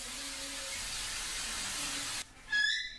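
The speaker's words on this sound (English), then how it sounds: "use my Aquanet hairspray and spray the crap out of it" A can of Aquanet hairspray is sprayed in a long, steady, faint hiss lasting a couple of seconds, followed by a short rustle.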